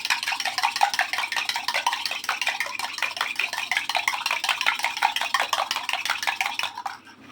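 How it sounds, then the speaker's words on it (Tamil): Eggs beaten briskly in a bowl, a fast, steady clatter of utensil strikes against the bowl that keeps going for several seconds and then stops, with no talking. "முட்டை அடிச்சு ரெடியாக வச்சுக்கலாம்."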